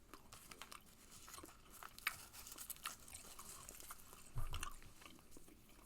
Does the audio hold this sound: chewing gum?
yes